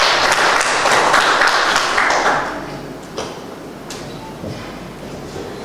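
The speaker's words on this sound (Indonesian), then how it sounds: "kita beri tepuk tangan." Audience applause at a book launch event, a burst of clapping that fades after a couple of seconds into sparse taps and room noise.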